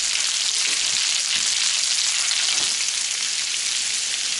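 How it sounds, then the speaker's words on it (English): Food for tartiflette sizzling and caramelizing in a hot pan, a loud, dense, continuous frying hiss with faint crackles and soft stirring scrapes, steady from start to finish, with no talking. "We're going to let that reduce down, caramelize."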